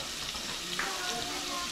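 Eggs frying in a pan at home give a soft, steady sizzle with faint crackles and light pops, heard quietly and alone.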